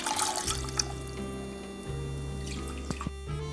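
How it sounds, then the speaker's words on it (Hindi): Water trickles and drips onto jaggery in a cooking pot over a stove, soft intermittent liquid sounds over a low steady hum, fairly quiet and close. "सबसे पहले अपने गुड़ को पानी डाल के चूल्हे पे रखेंगे"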